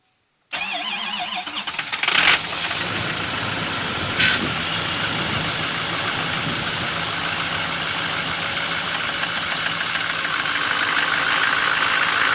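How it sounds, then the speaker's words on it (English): Diesel truck engine with no block heater cranking and firing in sub-zero cold, catching after a brief crank and settling into a loud, steady, rattling idle, close by with no talk. "It's a cold start."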